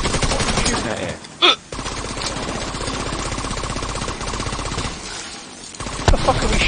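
Automatic gunfire from a firefight in The Division 2 at the National Zoo, a steady dense rattle of shots running through most of the stretch with brief gaps, game voices faintly underneath.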